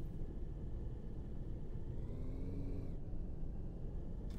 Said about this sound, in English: Engine sounds, obviously it's an electric car.